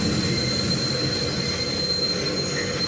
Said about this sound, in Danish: Det er jo toget mod Aalborg, der kørte der.